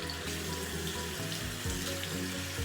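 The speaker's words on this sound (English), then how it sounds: "I just take some warm water. Not hot, but warm. And I just splash it" Warm water running from a tap and splashed onto a face at a sink, a steady gurgling flow with faint irregular splashes, close and fairly quiet, no talking.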